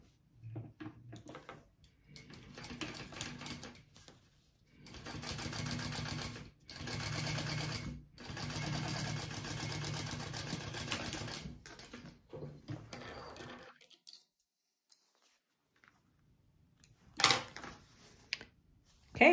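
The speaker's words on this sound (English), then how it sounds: "we're gonna top stitch along the side panel." A sewing machine top-stitches along a bag's side panel in several bursts of rapid, even stitching, close and moderately loud, with short pauses and faint handling clicks between runs.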